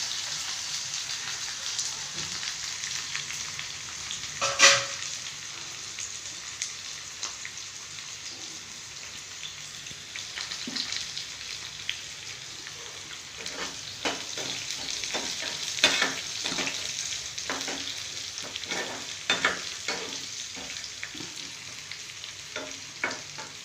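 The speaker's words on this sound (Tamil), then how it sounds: "ஊளி மீனுக்கு மசாலா போட்டு பொரிக்க போகிறோம்." Ribbonfish coated in masala sizzles in hot oil, a steady frying hiss with scattered pops and crackles throughout, moderately loud and with no talking.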